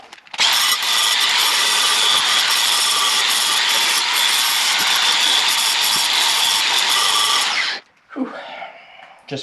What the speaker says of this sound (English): So we'll grind these down, file them out, and then get all 4 tips on and adjusted.